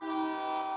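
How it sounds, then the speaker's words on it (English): A train horn blares in one steady, sustained chord, loud and fairly close, holding without a break through the whole short stretch with no talk over it. "Excuse the train, y'all"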